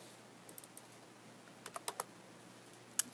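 A computer keyboard is typed on while coding a strings lab in Java, with sparse, faint key clicks in small clusters and short pauses in a quiet room.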